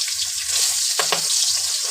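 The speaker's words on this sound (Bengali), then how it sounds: "মাছ দিয়ে দিলাম, আমি মাছটা এখন হালকা করে ভেজে নিয়ে তুলে নেব।" Boal fish frying lightly in hot oil in a wok gives a steady, close hiss and sizzle, with a couple of brief louder crackles partway through.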